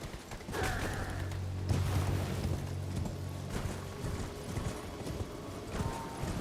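Hooves of a horse in Elden Ring clip-clop steadily at a walking pace over a low droning background, with a brief whinny and faint mechanical creaks.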